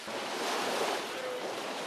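Surf washes onto a black-sand beach on the Black Sea coast of Georgia, a broad steady rush of waves mixed with wind noise, at moderate level, with no clear speech.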